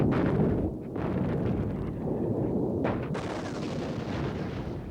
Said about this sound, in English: They now relied more heavily on artillery to dislodge the Syrians at long range.